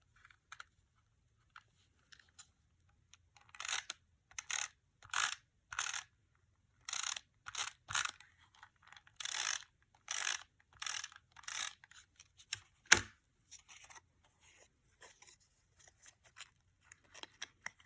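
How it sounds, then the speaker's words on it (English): Tape runner rolled along the flaps of a paper mini pop-up box, heard as a series of short, crisp clicking and ratcheting strokes in quick bursts, close and fairly quiet with no talking. "We'll go ahead and add tape runner to our flaps."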